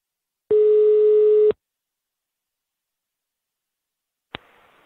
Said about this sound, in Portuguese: Eu vou ligar agora pra Joana.